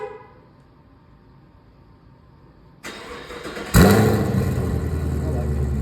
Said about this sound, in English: First startup on the new exhaust